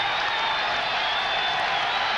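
Crowd roar in a basketball arena at a Duke at Florida State game, a steady, loud, continuous wash of many voices with no distinct individual sounds.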